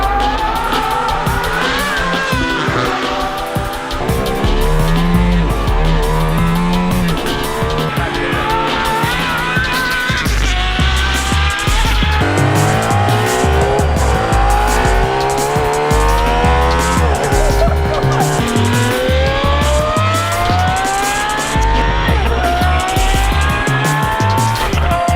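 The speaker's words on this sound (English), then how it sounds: "The Aston Martin Valkyrie." An Aston Martin Valkyrie, a 6.5-litre V12 hybrid road-legal race car, drives hard with loud continuous engine noise rising and falling through repeated gear changes, tyres squealing at moments, close and dominant throughout with no talk.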